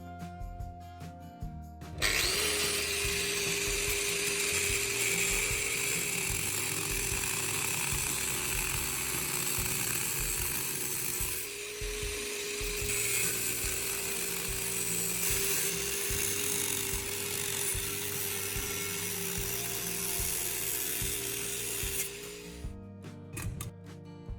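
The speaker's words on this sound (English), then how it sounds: "I'll use the proper tool to carefully cut and separate this part" A power tool cutting the nozzle off an old spray paint can, a loud steady whine running continuously for about twenty seconds, starting and stopping abruptly.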